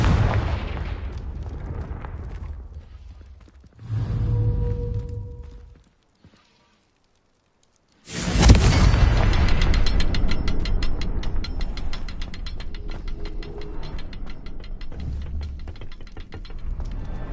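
In the video game Hogwarts Legacy, the Confringo fire spell explodes with a sudden loud blast right after a brief silence. A dense crackling, rumbling tail follows, and quieter game sounds come before it.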